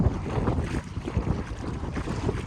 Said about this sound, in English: It's just a bit fucking windy.